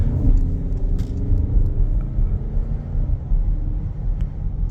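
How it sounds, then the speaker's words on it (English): A 2022 Porsche Cayenne GTS SUV growls through an automatic downshift under braking, a steady low engine rumble heard from inside the cabin with no talking. "as soon as you hit the brake, it just automatically downshifts for you and just gives you this like angry little growl"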